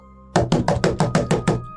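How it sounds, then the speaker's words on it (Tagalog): Eight loud, rapid knocks land on a door in an even, urgent rhythm, close by and clear. A quiet room hum sits underneath, and no one speaks. "Biglang may malakas na katok sa pinto."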